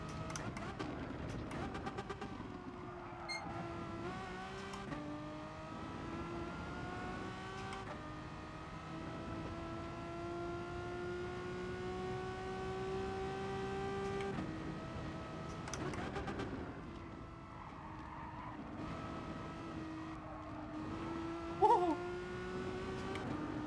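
Race car engine in GT Sport holding a steady, loud drone with rising and falling pitch through gear changes, shifting several times, brief sharp clicks near the end, no talk.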